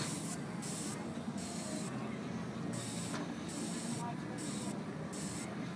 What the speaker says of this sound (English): He got some real good control of the airbrush.